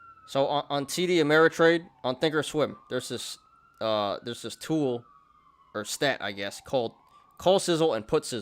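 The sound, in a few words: police sirens passing outside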